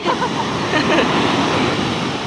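Large ocean waves crash and roar steadily at close range, a dense continuous wash of surf filling the scene with no clear gaps.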